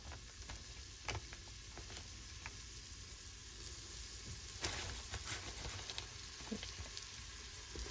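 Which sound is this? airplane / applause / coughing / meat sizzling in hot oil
meat sizzling in hot oil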